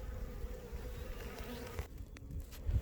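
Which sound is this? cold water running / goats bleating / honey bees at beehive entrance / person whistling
honey bees at beehive entrance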